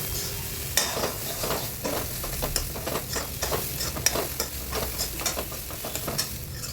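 A mixed vegetable fry with salt sprinkled in is stirred in a pan, giving a steady run of repeated scraping strokes over a constant low sizzle, close and fairly loud throughout.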